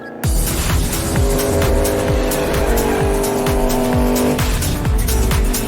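A Turbo LS-powered ice cream van does donuts, its engine roaring loud and close while the tires squeal and skid continuously in repeating rhythmic sweeps.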